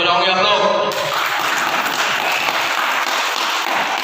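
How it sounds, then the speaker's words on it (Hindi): A voice briefly speaks before an audience at a Mumbai award ceremony breaks into loud, sustained applause that fills the rest of the moment evenly. "हम गुंडे बदमाश डॉन है तो क्या हमारे लिए तालीमें बजाओगे आप लोग?"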